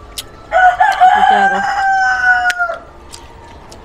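A single loud rooster crow rings out close by, a drawn-out cock-a-doodle-doo lasting about two seconds.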